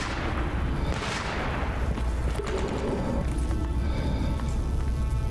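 Gunfire in the video game S.T.A.L.K.E.R. Anomaly comes as a dense, continuous roar of shots and booms from somewhere in the distance, steady and loud throughout.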